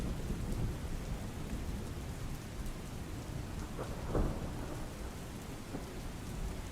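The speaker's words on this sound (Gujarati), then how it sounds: "વીજળીના કડાકા ભડાકા સાથે વરસાદ પડ્યો હતો" Steady heavy monsoon rain pours down in Dhoraji, Gujarat, with a low thunder rumble and a brief louder crack midway, fairly faint and distant.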